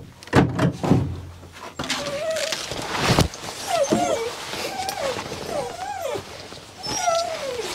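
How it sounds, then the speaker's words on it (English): Grouse-hunting dogs whine and yip in eager, rising whimpers while being collared up, with a door clatter and handling noises near the start. "So I'm going to collar up a couple dogs today and see what we find."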